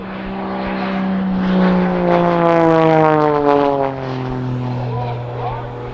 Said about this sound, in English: You can see what she's going through as she whips this airplane around.